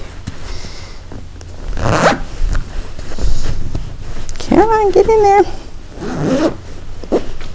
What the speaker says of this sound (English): which makes closing the zipper